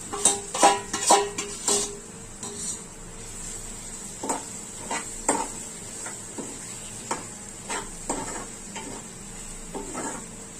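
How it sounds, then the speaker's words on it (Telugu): Prawns stirred through a pan of tomato-onion masala for prawn curry: a low, steady sizzle under a run of irregular scraping and clinking strokes from a spoon against the pan, with a few louder knocks early on. "ఈ రొయ్యలను కూడా దీనిలో వేసుకోండి"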